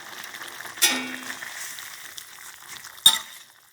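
A pot of Thai red curry with mussels and pea eggplant bubbling, with a soft sizzle and two sharp knocks of a utensil against the pot as basil goes in; no voices.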